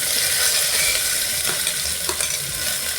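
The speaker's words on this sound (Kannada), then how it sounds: "ಕೆಂಪಾಗ ಹುರಿಬೇಕು ಇನ್ನು ಹುರಿಬೇಕು" Chopped onion and green chillies fry in hot oil for upma, giving a continuous close sizzle with a couple of soft scraping stirs of the spoon in the pan.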